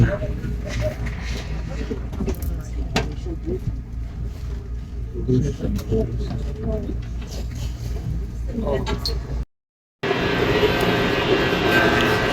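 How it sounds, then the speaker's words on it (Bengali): Inside a high-speed bullet train running from Mecca to Medina at around 300 km/h, a constant deep rumble and rushing roar fills the cabin, cut by a brief silence before resuming. "আমরা এখন মদিনাতে আসছি এই ট্রেনে করে আসছি"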